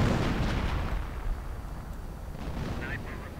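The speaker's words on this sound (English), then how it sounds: "Artillery going in right on this huge German force" Artillery pounds a large German force in a 1v1 strategy game match, heard as a dense, rumbling barrage of booming impacts that tails off into a fainter, grainy roar.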